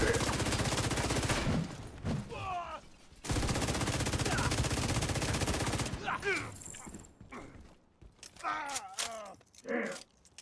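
Rapid bursts of video-game gunfire come in two long volleys, followed by scattered shots mixed with groaning, voice-like cries.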